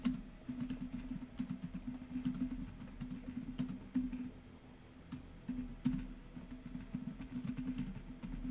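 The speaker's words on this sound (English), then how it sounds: "I'm typing out a message here" Soft clicking on a computer keyboard as a chat message is typed during a Warzone Rebirth match, a quiet, steady patter of keystrokes with occasional louder taps and no talk.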